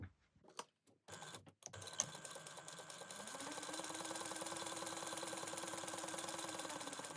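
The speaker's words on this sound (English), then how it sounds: "we are going to top stitch this down at 1/8 inch" A sewing machine runs a steady, even top stitch 1/8 inch from the edge of fabric, a continuous close mechanical whir lasting several seconds after a few brief handling knocks at the start.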